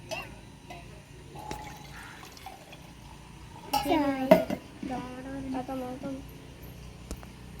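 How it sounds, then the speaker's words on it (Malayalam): Water is poured into a cup with a short burbling fill and light clinks of the vessel, fairly close, while people talk around it. "വെള്ളം നമുക്ക് വെള്ളം ഒഴിച്ചെടുക്കാം"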